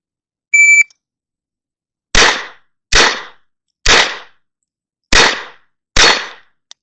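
A shot timer beeps once, then five sharp pistol shots crack out at an outdoor Steel Challenge range, evenly spaced and loud, each ringing briefly.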